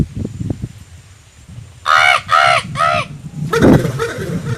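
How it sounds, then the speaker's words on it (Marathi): A crow caws three times in quick succession, loud and near, after some low rustling; a faint voice follows briefly. "कावळ्याचा आवाज आला"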